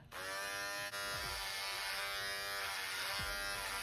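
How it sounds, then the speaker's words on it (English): An electric shaver cutting off a seven-year beard: a steady, close, loud buzzing hum runs almost the whole time, with slight changes in pitch as it moves across the hair, and no talk. "Y'all see how I'm shaving this now"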